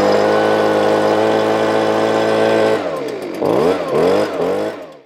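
A gas-powered hand leaf blower engine runs at a loud, steady buzzing drone, then revs up and down in several quick rising and falling surges before cutting off.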